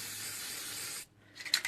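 A Spraycasso aerosol can sprays yellow paint in one close, steady hiss lasting about a second. The hiss cuts off, then short, sharper spurts of spray follow.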